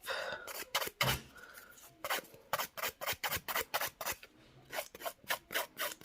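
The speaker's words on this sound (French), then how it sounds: "je vais passer un petit coup de lime, vraiment léger" Nail file rasping lightly across an acrylic nail extension, a quick series of short, close scratchy strokes in a steady back-and-forth rhythm with brief pauses.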